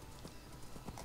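Horse hooves clip-clop in the Minecraft video game, a few quick steady hoof taps over a dense game background.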